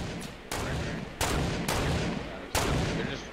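Gunshots in the video game Fortnite: four heavy, booming shots spaced about a second apart, each with a long echoing tail that fills the gap before the next.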